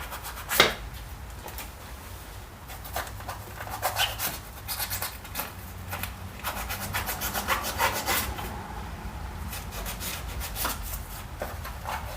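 A chisel and hand knife carving small pieces from wood for a DIY fishtank decoration, irregular close scraping and rasping strokes with occasional sharper scuffs.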